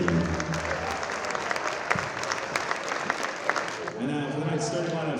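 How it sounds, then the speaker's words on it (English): A high school gym crowd on senior night at a boys basketball game claps loudly and continuously, a dense burst of applause with scattered cheers and voices mixed in. "Let's have one more round of applause for all seniors."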